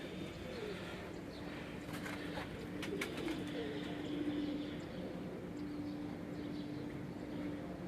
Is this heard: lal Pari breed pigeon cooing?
yes